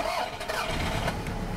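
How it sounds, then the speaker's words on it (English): A car engine cranks and catches with the brake pedal held down during a brake booster check, a brief starter whirr turning into a close, rough mid-pitched idle. "And then whilst holding the brake down, we start the engine again."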